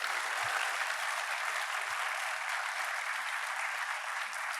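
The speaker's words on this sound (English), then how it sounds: "A huge round of applause for our minister" Steady, dense applause from a large crowd at a university lecture, sustained throughout without a break.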